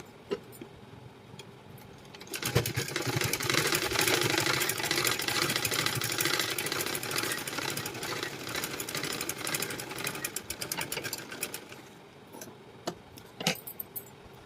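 A sewing machine stitches a blouse lining in one continuous run of about nine seconds, rising from quiet and stopping, followed by a few faint clicks.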